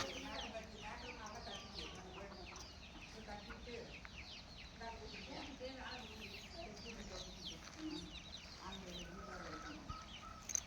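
Native country hens on a farm cluck and squawk continuously from a busy flock close by, with faint voices murmuring underneath.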